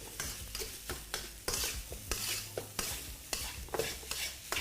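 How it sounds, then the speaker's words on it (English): Kimchi fried rice is stir-fried in a wok that is moved round while a flat spatula pushes into the rice, producing repeated scraping and tapping strokes over a soft, fairly quiet sizzle. "I'm moving the wok round whilst bringing my spatula into the rice"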